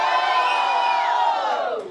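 A packed crowd at a Halloween rap battle in Londrina roars and cheers with shouts and whoops, a dense sustained wall of voices that starts to fade near the end.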